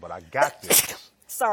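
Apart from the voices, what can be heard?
sneeze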